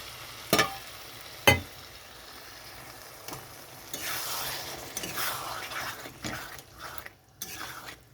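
Water poured into a frying pan of softened potatoes being cooked down for a Bengali fish curry, with a couple of sharp clanks followed by a loud burst of hissing sizzle that gradually settles, close by.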